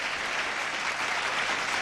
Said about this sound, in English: let's give them all another warm round of applause